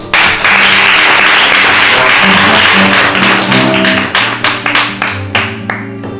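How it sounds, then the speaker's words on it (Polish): Audience applause at the opening of a literary festival with award statuettes, a dense wash of clapping from many hands that starts abruptly, holds steady, then thins into scattered claps toward the end. "W każdym razie też wielkie brawa"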